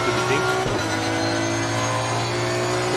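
A race car engine in a racing video game drones loudly and steadily at sustained revs, with a brief shift in pitch near the start.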